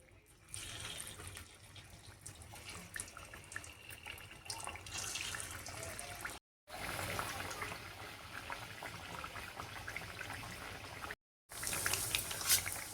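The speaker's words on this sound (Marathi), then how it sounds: "आपण आता एक एक आळूवड्या तळून घेऊया." Colocasia-leaf rolls (aluvadi) frying in hot oil in a wok: a continuous bubbling hiss, close and steady, broken twice by brief silent gaps, with no one talking.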